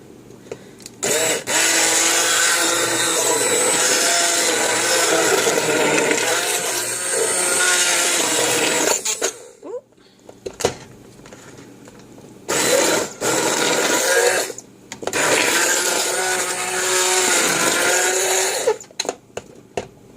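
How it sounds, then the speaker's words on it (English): Kitchen blender pureeing peaches for spiced peach jam, a loud continuous motor whir running in long bursts with short pauses and clunks between them. "let's go ahead and puree our peaches"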